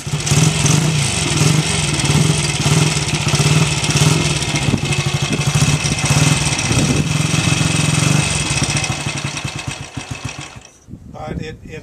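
A restored Ducati 160 single-cylinder motorcycle engine runs with a steady, uneven idle, loud and close, before cutting out abruptly near the end.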